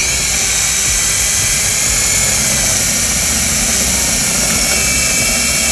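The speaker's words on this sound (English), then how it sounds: "I'll go ahead and just drill out the other side here." A power drill whines loudly and continuously while boring into the body of a 2020 Kia Sorento during trailer wiring harness installation, a steady high-pitched drone close up with no talking.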